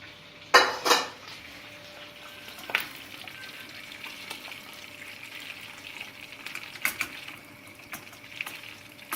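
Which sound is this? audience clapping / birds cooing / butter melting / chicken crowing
butter melting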